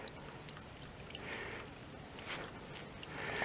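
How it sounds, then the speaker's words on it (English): Spring water at the headwaters of the South River trickles out of a mountain hillside near Saddleback Mountain in Shenandoah National Park, a soft, steady close-up babble and pour with no one speaking. "Right here's the spring. Maybe you can see it coming out of the side of the mountain there."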